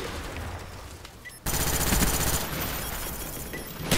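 Rapid automatic gunfire from the video game Call of Duty: Black Ops rattles in dense bursts, starting faint and turning sharply louder and more continuous partway through.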